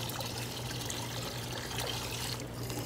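Water poured into a plastic bag holding a platinum butterfly koi, a steady soft trickle and splash running throughout at low level, with no talk over it.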